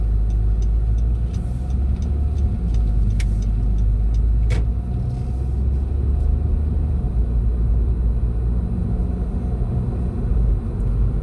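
Steady interior rumble of a car driving a road test route in Etobicoke, a constant low engine and road drone with faint occasional clicks, no voices heard.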